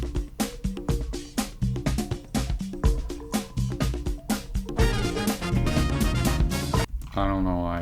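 The de Blob video game soundtrack plays with its three intensity layers stacked together: a dense, busy groove of punchy percussion and layered melodic parts, steady and fairly loud throughout.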